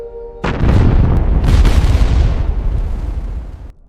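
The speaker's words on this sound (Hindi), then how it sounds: "ठीक उसी पल परमाणु बम फट पड़ा।" An atomic bomb explosion sound effect hits suddenly with a loud, deep boom, then swells into a rumbling roar that slowly fades over about three seconds before cutting off.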